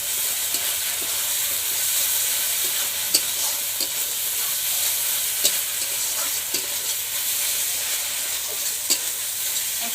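Ginger-garlic paste frying with onion, cumin and dried chilli for a village-style chicken curry, an even steady sizzle with occasional light clicks of a stirring spoon and no talking.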